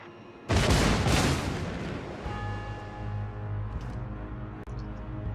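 Heavy naval gunfire in World of Warships, a loud booming salvo bursting in after a brief quiet and rumbling out over several seconds, with a sharp smaller report near the end.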